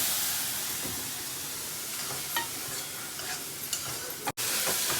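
Onion, tomato and curry leaves fry in hot oil for a potato bhaji, a steady close sizzle broken by the scrape and clatter of stirring, with a brief sharp knock near the end.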